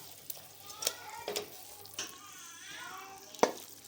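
Masala frying in oil in a home kitchen pan before chicken goes in, a soft steady sizzle broken by several sharp scraping stirs and a loud clack near the end.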